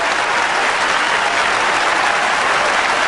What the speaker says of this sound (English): the crowd have come into this and they're willing the Adelaide Crows on right here